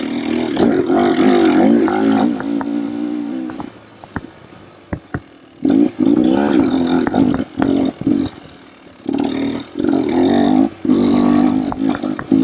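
A Beta dirt bike ridden off-road through trees, its engine revving hard in repeated bursts, dropping to a near idle with a few knocks midway, then surging back up close to the mic.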